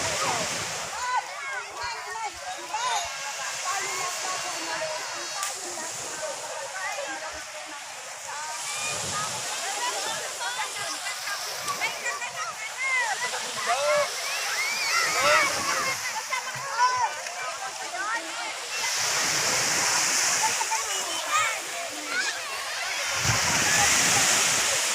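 Sea waves washing and splashing at a beach under overcast, drizzly skies with many people swimming; a steady broadband wash of surf with intermittent splashes throughout, under ongoing talk and voices.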